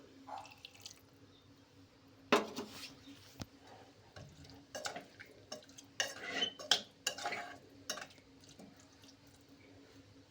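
Scattered clinks and scraping of a spoon stirring cluster bean and potato curry in a metal pressure cooker, irregular and close, with quiet gaps between strokes.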